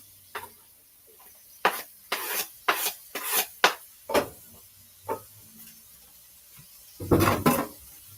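Chopped shrimp stirred into a spicy seasoned filling for shrimp empanadas, heard as a series of soft, rasping scrapes and taps of utensil against bowl in irregular bursts, close and fairly quiet.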